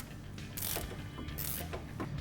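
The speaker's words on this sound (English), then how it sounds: "Grab yourself an 18mm wrench and socket to remove the sway bar end link" Wrench and socket ratcheting off the sway bar end link on a 2007-2018 Jeep Wrangler JK 4-door, an 18mm fitting; two bursts of quick metallic ratchet clicks, close and moderately loud, over a low background hum, with no talking.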